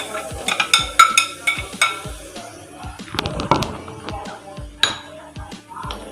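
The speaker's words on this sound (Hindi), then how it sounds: "इसके अंदर शामिल करेंगे प्याज" Chopped onions going into a pan for beef keema, sizzling and frying while a utensil repeatedly stirs and clinks against the metal, with busy rhythmic scraping throughout.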